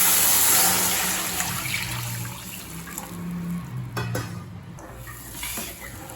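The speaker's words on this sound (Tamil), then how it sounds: "இப்போ இது கூடவே 2 கப் தண்ணி சேர்த்துக்கலாம்." Two cups of water are poured into a pan of freshly roasted rava for rava payasam, hitting the hot semolina with a loud sizzling rush that fades into gentle bubbling and stirring.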